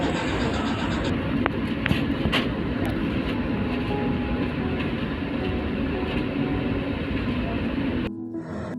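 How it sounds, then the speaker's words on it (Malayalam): Continuous rumbling clatter heard from inside a moving train, steady and loud throughout, with a brief change in tone near the end. "ഞങ്ങളിപ്പോൾ ട്രെയിനിൻ്റെ അകത്ത് കയറിയിരിക്കുകയാണ്."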